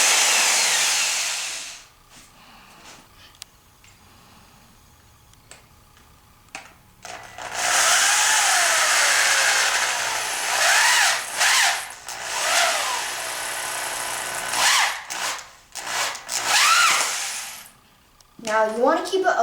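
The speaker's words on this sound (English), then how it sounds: "So I'm going to screw them in now." Power drill driving four screws into a wooden Wing Chun dummy, with several long whirring bursts separated by pauses and clicks, loud and close.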